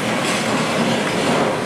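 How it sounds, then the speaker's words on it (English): An auto rack freight train, Q277, rolls past close by with a loud, steady rumbling roar and faint rhythmic clatter of wheels, with no voices. "Why is this on an auto rack train?"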